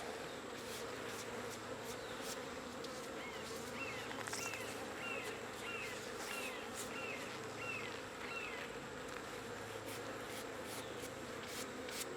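A steady, dense hum of buzzing honey bees fills the air during honey collection from a hive, with occasional closer insects passing, and some faint chirps in the background.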